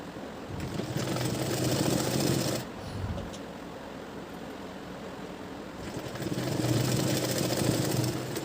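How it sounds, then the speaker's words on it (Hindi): Sewing machine stitching along the folded edge of a baby girl's skirt, a quiet steady mechanical whirr that runs in two bursts with a softer pause between. "किनारे किनारे से जो हमने सिलाई लगी हुई है उसके किनारे से बिल्कुल सिलाई लगाते जाएंगे"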